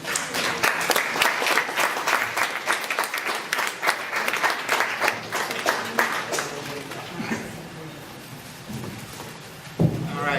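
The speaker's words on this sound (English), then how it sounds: "let's give Taito another round of applause for persevering." A symposium audience claps in a dense, lively round of applause that gradually thins into scattered claps, with some talk near the end.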